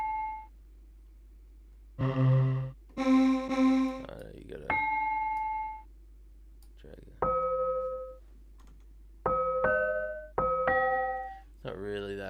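Synthesizer bell tones for a dark R&B beat play one after another, bright ringing notes with harmonic overtones, some sustained and some short plucked hits, with a few lower-octave notes, and brief speech in between.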